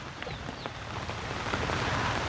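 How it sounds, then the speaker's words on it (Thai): Rain falls steadily, a soft, even patter and hiss of drops with a few sharper taps, faint and continuous, with no voices. "ฟ้าฝนกระสาดครับ"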